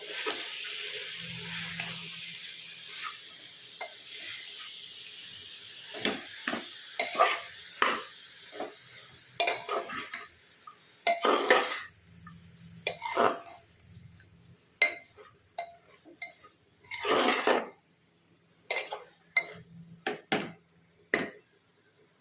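Intermittent scraping and clattering of a spoon stirring spinach and vegetables in a metal pressure cooker, with irregular bursts of clinks and scrapes amid quiet pauses, close by.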